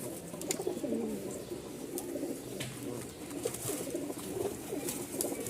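A male Giribaz pigeon coos in repeated soft, throaty bursts, close and clear, over a faint background of other birds.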